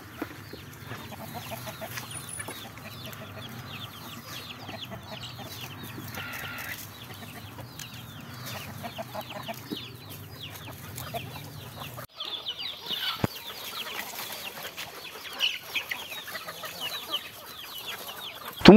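Native country chickens cluck steadily inside a farm coop, many overlapping calls near and far forming a busy, continuous chorus with a few louder knocks.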